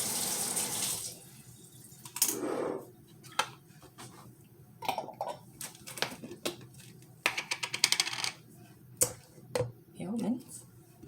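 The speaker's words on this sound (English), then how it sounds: "I'm gonna rinse my fork off." Tap water splashes in short, intermittent bursts as a fork is rinsed at a kitchen sink while tuna sandwiches are made, with clinks and handling noises between the bursts.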